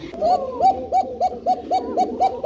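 Pigeons cooing at a pigeon farm, a close and loud run of rhythmic coos repeating about twice a second without a break.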